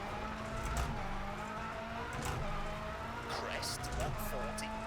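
A rally car engine in the video game EA WRC drones steadily at high revs, with gear changes and brief tire noise, loud and continuous throughout.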